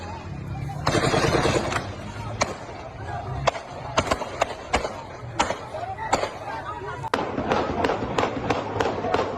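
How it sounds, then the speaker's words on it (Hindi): Sharp, loud gunshots ring out in bursts and scattered single shots, some in rapid runs, over a noisy crowd-like background during street protest violence in Pakistan-administered Kashmir. "देखिए किस तरीके से फायरिंग हो रही है"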